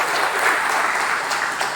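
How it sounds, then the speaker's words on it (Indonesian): A crowd at a university delegation visit to HBT in Padang, Indonesia claps in steady, dense applause that fills the room, heard close and loud with no voices over it. "Tepuk tangan buat HBT."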